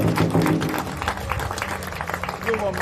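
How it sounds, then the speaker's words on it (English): A crowd at a rally against big tech data centers in Minnesota applauds, clapping loud and close under overlapping voices and cheers. "Let's give Mark another round of applause."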